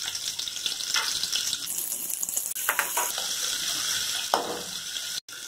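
Chopped small shallots sizzle and crackle steadily in hot oil with fennel and fenugreek seeds, close and continuous, with a brief clatter near the end.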